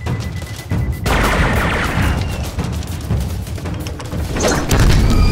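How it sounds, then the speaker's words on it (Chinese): Italian cannon blast blowing up a chess piece in a comedic drama, a loud booming explosion with crashing debris and a rumbling tail, followed by further thuds. "把他马给我炸了。"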